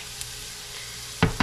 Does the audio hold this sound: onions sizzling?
yes